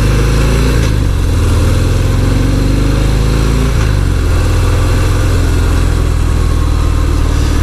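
Loud, close V-twin engine rumble of a 2018 Harley-Davidson Fat Bob 114 Softail motorcycle under way, its pitch climbing and dropping with gear changes, with a thumping low throb throughout.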